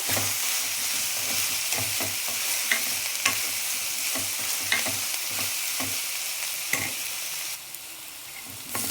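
Curry leaves, onion and green chillies sizzle steadily in hot oil in a pan, with repeated sharp stirring scrapes and clicks at irregular intervals, close and fairly loud with no talking.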